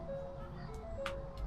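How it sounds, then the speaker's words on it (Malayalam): A car's door-open warning chime sounds as a steady electronic tone near the vehicle outdoors in the UK. It continues under faint background noise and brief voice sounds. "ഡോർ ഓപ്പൺ ആയതിൻ്റെയാണ് സൗണ്ട് കേൾക്കുന്നത്."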